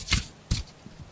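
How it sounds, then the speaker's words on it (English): A deck of cards shuffled close behind a microphone in an ASMR setting, two crisp riffling bursts followed by a faint tap, with no talking. "Can you hear it when I shuffle behind the mic?"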